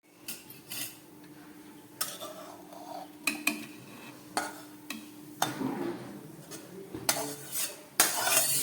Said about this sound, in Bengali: গ্যাসটা বন্ধ করে দিয়ে একটা ঢাকা দিয়ে দিচ্ছি।